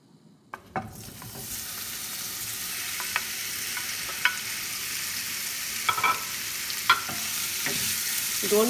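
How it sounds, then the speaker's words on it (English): Prawns fry in mustard oil in a hot pan with a loud, continuous sizzle, punctuated by several sharp clinks and scrapes of stirring, close up and with no talk. "I am going to add 1 tablespoon mustard oil to fry the prawns."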